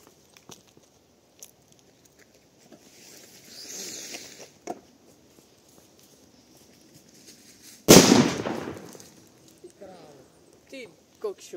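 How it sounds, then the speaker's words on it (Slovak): A homemade 10-gram firecracker explodes with one loud, sharp bang after several seconds of quiet rustling and footsteps, and people speak briefly nearby. "Takže máme tu 10 gramov petardu doma robenú,"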